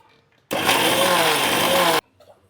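An electric kitchen mixer grinds coconut with green chili and cumin, a loud one-and-a-half-second roaring whir that starts and stops abruptly, with faint voices heard before and after.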